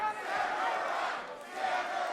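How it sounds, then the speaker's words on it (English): A crowd at a Phoenix Pro Wrestling title match roars and shouts in support of the challenger, a sustained swelling cheer that dips briefly and rises again. "you can hear the crowd get behind the challenger"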